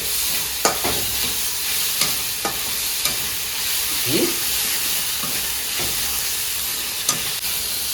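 Tomatoes frying in oil for a duck curry base, a continuous hissing sizzle with occasional clinks of stirring, close by, with a brief spoken word.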